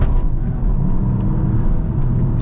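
A 2026 Cupra Leon VZx driving hard with some wheel spin, a steady loud low engine and road rumble close by with no talking.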